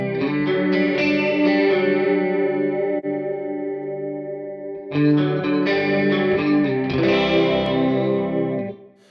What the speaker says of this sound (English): The 70s warm chorus mono.